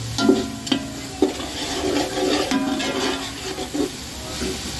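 Garlic and ginger sizzle and fry in a pot for beef pulao, a steady close hiss broken by a few sharp scrapes and clinks of a stirring spoon against the pot.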